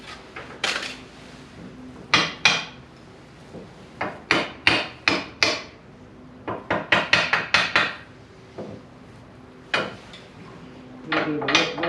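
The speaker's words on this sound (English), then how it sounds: "I'm going to get my hammer here. A little ball peen." A small ball peen hammer strikes the steel hitch of a New Holland 575 baler in sharp, ringing metallic blows, some single and some in quick bursts, close and loud with short pauses between.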